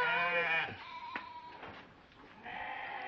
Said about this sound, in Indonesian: Itu kan ada kambing kita sama domba.